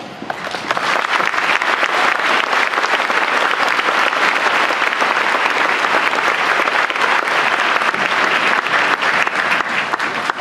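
Loud, sustained applause from a crowd at a high school Veterans' Day program, dense continuous clapping honoring veterans that fills the whole stretch without talk.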